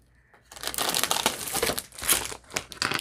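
Crinkly Halloween craft paper is handled close up, giving bursts of crumpling and rustling after a brief quiet start.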